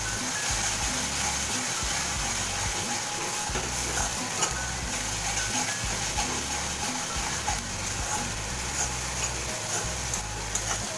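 Onion paste frying in oil for a yogurt katla fish curry, a steady close sizzle with stirring scrapes running continuously, no talking.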